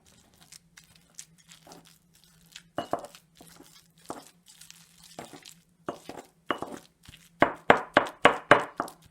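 Guacamole ingredients such as shallot and garlic are crushed and mixed in a mortar beside a wood fire, a series of sharp scraping and grinding strokes that grow louder into a steady rhythmic run at the end, with no talk.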